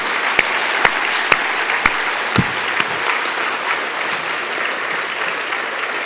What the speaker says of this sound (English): Would you all please just join me in applauding those champions?